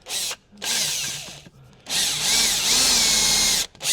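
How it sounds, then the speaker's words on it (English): A power drill bores out a bearing on a David Brown tractor, running in three loud sustained bursts with short pauses between them, close up and with no talking. "let's find a bigger drill bit and see what we can take out of that."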